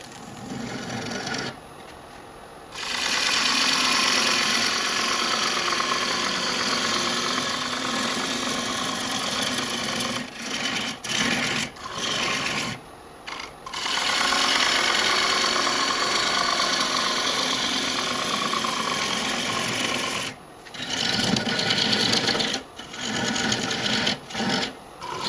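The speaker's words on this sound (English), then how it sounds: "We're starting to get the sound of thin, even though we're not even close to thin." A wood lathe turns a bowl with a steady, loud scraping and whirring cut, broken by several short pauses as the tool lifts off and goes back on, with no talking.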